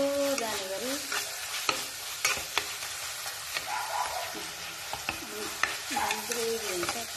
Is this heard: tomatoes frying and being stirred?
yes